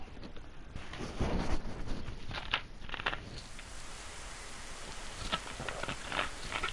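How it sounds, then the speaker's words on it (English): Steady rain falls throughout in the DayZ game world, a continuous wash of drops with brief louder spatters, heard alone with no talking. "Every new character must start in the rain."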